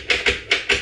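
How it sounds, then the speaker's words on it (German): A universal profile-cylinder opening tool works a door lock's cylinder mechanism, giving four close, crisp metallic taps in two quick pairs, alone without talk. "Jetzt nehme ich den Universalprofilzylinderschließer, um den Schließmechanismus zu betätigen"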